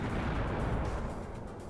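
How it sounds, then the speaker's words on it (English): Stinger missile firing in the video game WARNO, a dense continuous roaring blast that fills the whole short stretch at steady loudness without a clear start or end. "We do have a Stinger firing."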